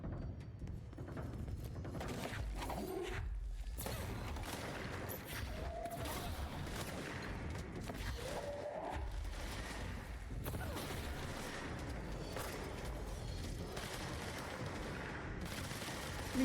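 Gunfire in the video game Control: repeated sharp shots and short bursts over a continuous low rumble, spread through the whole stretch with no talk.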